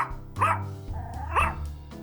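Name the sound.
dog barking in a visual novel video game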